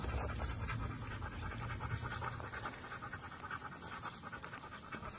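Belgian Malinois dog panting heavily, close and continuous: fast, rhythmic breathy huffs with a rough texture and no pauses.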